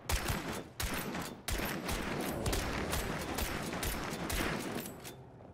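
Sustained gunfire from a James Bond video game, a dense run of rapid shots with brief breaks, loud and close throughout.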